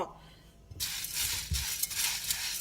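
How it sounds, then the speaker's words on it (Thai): Black peppercorns dry-roast in a pan over low heat: after a quiet start, a soft bed of crackling and light rattling as the corns are stirred, with a few small clinks against the pan. "ก็คั่วไฟอ่อนไปเรื่อยๆนะคะ"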